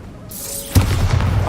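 Bombarda explosion spell in Hogwarts Legacy: a rising magical whoosh breaks into a loud, close crunching blast, followed by a rumbling crackle of debris.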